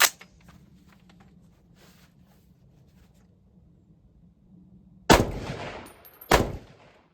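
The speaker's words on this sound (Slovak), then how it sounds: "dajme si prvú 1-2 rany, úplne bez kompíku, bez úsťového zariadenia, len na holú hlaveň" Two loud, sharp gunshots fired from a bare barrel with no muzzle compensator or muzzle device ring out about a second apart, each with a brief echoing tail, after a stretch of quiet outdoor background.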